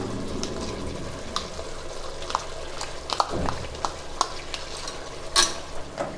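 Gongura leaves go into half-cooked chicken in a pan and get stirred, with a steady low sizzle under scraping spoon strokes and a few sharp clinks against the pan, all close by.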